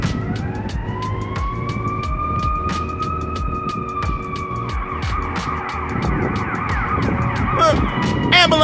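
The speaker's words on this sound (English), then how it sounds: "All these sirens going around." An ambulance siren wails loudly nearby, its tone rising and falling as it passes through city traffic near a ballpark, over engine noise and road rumble, with brief sharp sounds near the end.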